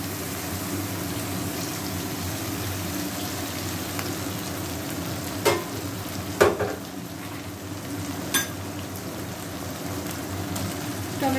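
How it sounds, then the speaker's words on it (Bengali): Ginger paste going into a hot pan of oil for chicken curry, a steady dense sizzle throughout with a few brief spoon knocks, fairly loud and close, no voices. "এবার আদা বাটাটা দিয়ে দিচ্ছি"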